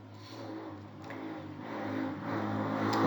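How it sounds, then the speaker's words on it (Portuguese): A motorcycle engine hums faintly in the distance, its drone slowly rising in pitch and loudness as it approaches. "Passou uma moto aqui, infelizmente."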